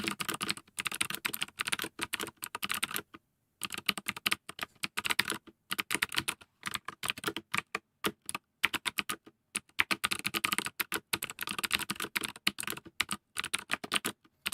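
Steady, fast typing of code on a computer keyboard, close and crisp, with rapid key clicks broken by brief pauses over several seconds.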